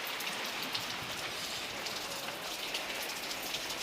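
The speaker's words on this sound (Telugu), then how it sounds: "సాయంత్రం 6 అవ్వంగానే ఒక్కసారిగా వాతావరణం చల్లబడిపోయి వర్షం కూడా ఓ మోస్తరుగా బాగానే కొట్టింది." Evening rain falls over Vijayawada, a steady, even hiss of drops on surfaces that continues unbroken throughout at moderate level, with no talking.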